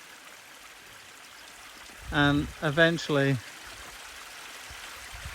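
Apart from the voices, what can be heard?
small stream of running water trickling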